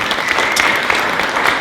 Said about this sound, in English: Let's give them a big round of applause for their film